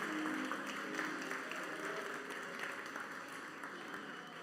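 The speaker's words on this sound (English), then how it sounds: "Another round of applause for Reverend Kevin" An audience applauding Reverend Kevin Lee, a steady, fairly faint wash of clapping from a crowd that tapers slightly toward the end, without voices.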